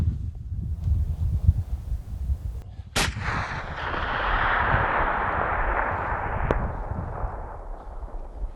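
A single sharp rifle shot at a buck during a badlands hunt, loud and close, followed by a long rolling echo that fades across the open terrain over several seconds.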